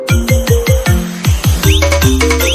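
A phone ringtone for a midnight call plays loud and close, a fast repeating electronic melody of bright, bouncing notes with no talking over it.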